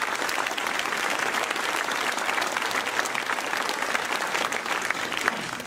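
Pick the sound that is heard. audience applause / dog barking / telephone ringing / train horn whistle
audience applause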